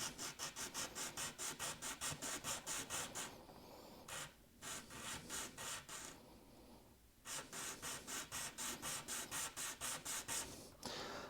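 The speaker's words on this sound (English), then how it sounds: "I'm just going to rest it here, and then we're just going to sand down the bottom." Sandpaper rasps rhythmically against the bottom of a Gibson Studio guitar nut, quick repeated back-and-forth swipes in close bursts with two short pauses, faint and without talk.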